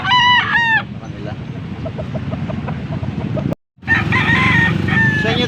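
Gamefowl roosters of a Sweater Roundhead bloodline crow loudly and close at a market in Angeles, Pampanga, one crow opening and another starting after a brief dropout, with clucking and crowd bustle in between.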